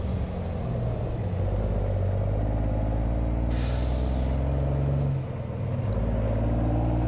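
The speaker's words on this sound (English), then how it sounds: "So this must be a kind of an older truck in real life" An older truck in Farming Simulator 22 idles and rumbles with a steady low engine drone, a sharp air-brake hiss bursting out partway through.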